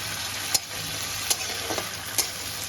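Tomatoes and green chillies fry in a pan with a steady, close hiss of sizzling oil, broken by a few sharp spatula taps at irregular intervals.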